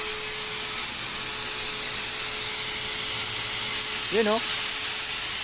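Portable electric spray paint gun without an air compressor running steadily with a loud, continuous airy hiss throughout, while a person briefly speaks near the end.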